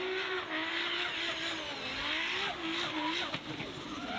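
A drift car with a four-rotor rotary engine roars hard at speed on a hillclimb course, its continuous wailing note rising and falling as tires skid and squeal, loud and close throughout.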